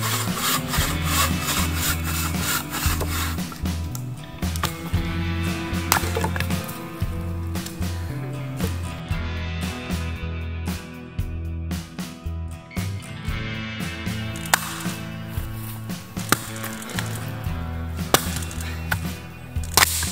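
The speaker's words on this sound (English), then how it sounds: "now it's time to cut down some firewood and process the firewood" Firewood being cut in a forest camp at dusk: a hand saw rasps through wood in long rhythmic strokes, broken by sharp chops and knocks of an axe, close and loud with no talking.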